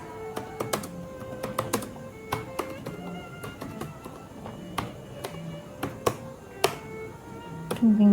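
C program code is typed on a computer keyboard, a steady stream of light, close key taps with irregular rhythm and occasional louder strokes, quiet and continuous, with no voice over it.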